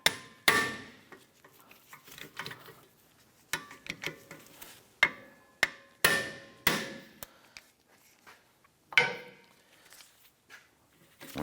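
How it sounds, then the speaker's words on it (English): Sharp repeated hammer blows on an impact driver loosening rusted rotor screws on a 2004-2008 Acura TL rear hub, a dozen or so metallic strikes at irregular intervals, close and loud with ringing decays between hits. "we're going to use an impact driver tool to loosen these screws"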